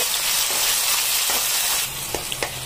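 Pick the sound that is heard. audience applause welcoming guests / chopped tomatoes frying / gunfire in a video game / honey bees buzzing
chopped tomatoes frying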